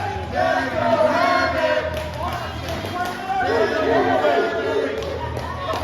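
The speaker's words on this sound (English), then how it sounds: "The raucous crowd is behind Daddy Havoc here tonight." Loud crowd at a No Limit Wrestling event roars and chatters steadily behind the action, swelling in waves with overlapping voices throughout.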